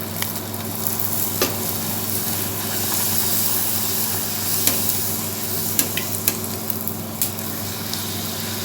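Poori deep-frying in hot oil for a breakfast of poori and channa masala, a steady close bubbling sizzle with a few sharp clicks and pops near the end, no talking.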